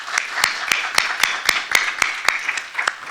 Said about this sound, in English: Please join me in a warm round of applause for Dr. Angelika Atre.